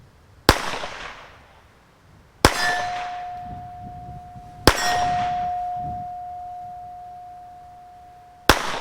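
A spring-loaded pin from a Colt 1903 pistol flies out and strikes metal, ringing in four sharp clangs spaced a couple of seconds apart, each followed by a long, bright decaying ring, close and alone with no talk.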